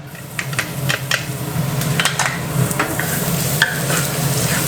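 Garlic frying in a hot pan while mussel pancakes are being made: a steady, close sizzle runs throughout, broken by light scraping and clinks of a utensil against the pan.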